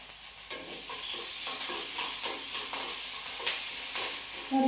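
Small onions and curry leaves sauté in hot oil, a loud continuous sizzle broken by repeated scraping stirs of a spoon in the pan.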